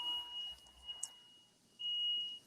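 A steady high-pitched electronic beep from a monitor in a hospital room sounds at the start, drops out, then returns as a long continuous tone, with no speech.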